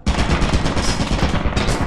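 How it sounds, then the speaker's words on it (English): A turret in the video game Lethal Company firing a loud, continuous rapid burst of automatic gunfire, close and unbroken for nearly two seconds. "Dude, there's a turret down there as well."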